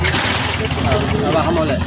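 A TMX Alpha motorcycle engine cranks and catches, a loud, close rumbling churn of the small single-cylinder motor, with someone talking over it.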